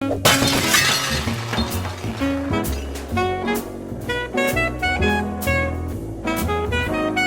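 Crisp glass shattering in the game Smash Hit: several bright smashing bursts over loud, tonal game music, clear and close.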